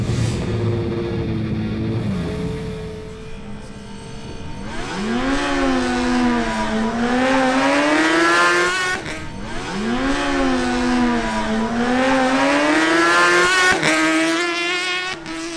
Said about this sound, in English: Enrique Molina on his Kawasaki Ninja ZX-10R makes a new pass.